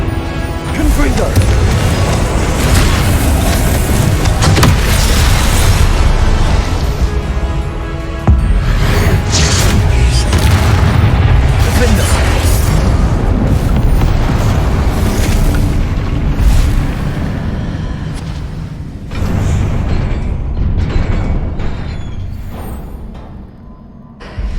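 Heavy booming Confringo blasting-spell explosions in Hogwarts Legacy, loud and dense, rumbling blasts and crashes that roll on almost continuously with a louder stretch early on.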